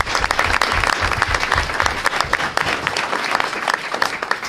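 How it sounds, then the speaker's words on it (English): Room full of people at a school board meeting clapping for tennis coaches, dense steady applause heard fairly close throughout the short burst. "So let's give them a round of applause."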